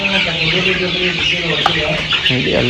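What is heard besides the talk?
chickens clucking in a poultry farm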